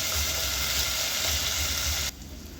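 Onions fry in a pan with a steady, close sizzling hiss that drops abruptly quieter near the end.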